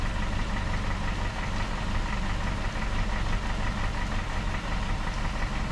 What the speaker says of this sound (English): let the engine run for at least 1 hour